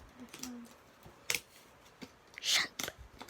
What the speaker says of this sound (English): just use the scissors to cut the tape off